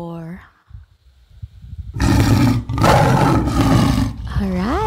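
A tiger roars loudly and harshly in a long, sustained bellow with a short break midway, preceded by low rumbling and flanked by bursts of a wailing, siren-like tone.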